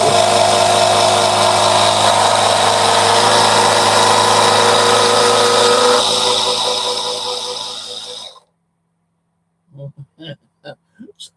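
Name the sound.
small electric air pump running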